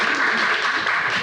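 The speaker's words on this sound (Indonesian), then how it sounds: "Oke, bisa tepuk tangan dulu." An audience at a service design session claps together in a brief, dense burst of applause that holds evenly for about a second.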